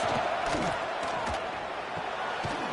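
Crowd noise swells at an American football game with the offense facing first and goal near the end zone, a steady roar filling the stadium with some scattered shouts.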